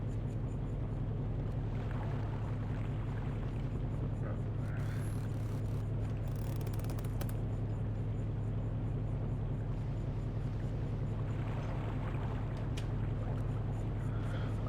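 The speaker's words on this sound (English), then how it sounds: "we are just motoring along with all of our sails up. Or all of our sails down." Sailing yacht motoring under engine in the eSail sailing simulator game, a steady low drone with faint water wash, continuous throughout, with a voice talking over it.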